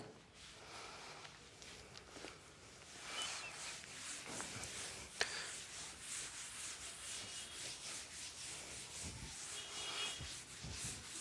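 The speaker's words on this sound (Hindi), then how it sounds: "मैं कह रहा हूं m की वैल्यू मैं रब करता हूं" Steady soft rubbing of an eraser or duster wiping writing off a classroom board, a quiet continuous scrubbing with slight strokes, close and alone.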